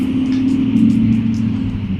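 A 6-liter Ford truck engine idles with a steady low rumble, and vehicle noise drones continuously in the background with no voices.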